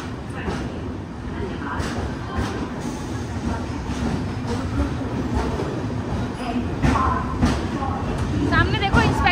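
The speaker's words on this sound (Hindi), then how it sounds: "गुवाहाटी के प्लेटफॉर्म नंबर 1 से टाइम देखिए 9:57 पे हमारी ट्रेन का डिपार्चर हुआ है" Poorvottar Sampark Kranti passenger train rolls out of Guwahati, a steady close rumble with clickety-clack of the wheels under the carriage, continuous throughout with faint voices nearby.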